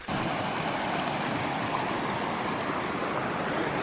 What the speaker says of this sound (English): Gonna try and find some water in the form of a creek.